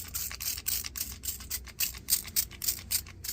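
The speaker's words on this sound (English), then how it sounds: "I spray the pillows with the alcohol disinfecting spray" Alcohol disinfectant spray misted onto pillows and bedding, heard as a run of quick, hissy bursts in an uneven rhythm, close and fairly quiet, with no talking.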